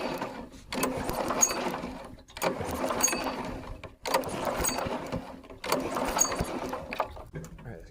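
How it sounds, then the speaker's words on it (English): A go kart engine turned over by a pull-start to check for spark, four rhythmic bursts of mechanical cranking, each lasting about a second and a half and separated by short pauses, loud and close. "just so we can crank this over so we can see if we got some spark"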